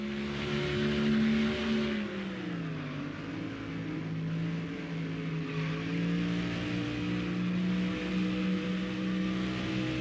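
A NASCAR race car in the NASCAR Thunder video game circuits Pocono, its engine droning loud and steady, dipping in pitch around a gear shift then holding and climbing slightly, with no voices over it.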